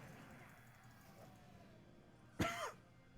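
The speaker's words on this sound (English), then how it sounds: "It's pretty much just like a normal cough." A single sharp cough breaks a quiet room near the end, close and brief against faint background hum.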